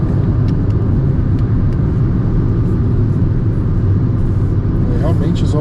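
Steady, loud low road rumble fills the cabin of a Hyundai HB20 as it drives, a constant drone without pauses or talk.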